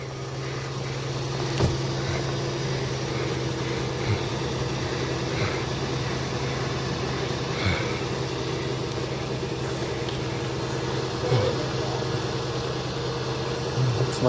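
A parked car's engine idles steadily and close by on a snowy day, a constant low hum with a few faint clicks and small bumps over it, with no talking.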